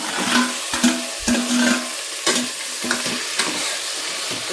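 Cut vegetables for temple-style sambar stirred in a hot pan, a steady frying sizzle broken by repeated scraping strokes of the spoon against the metal, close and fairly loud, with no talking.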